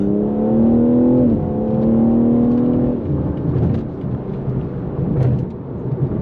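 A 2014 BMW M3 Competition engine revs hard, its rising whine stepping up through gears, then settling into a rough, throaty drone, loud and close.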